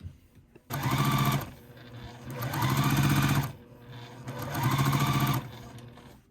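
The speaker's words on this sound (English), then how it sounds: "And once again, sew a 1/4 inch seam." A sewing machine stitches a quarter-inch seam on a hexagon quilt piece in three sustained bursts of rapid mechanical whirring, each separated by a short pause, close and clear with no talking.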